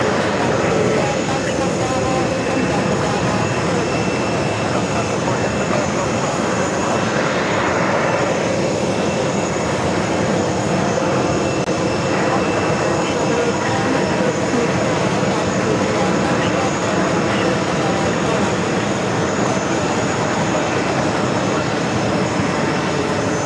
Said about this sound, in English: One of JetBlue's newest liveries, just touching down at Fort Wright.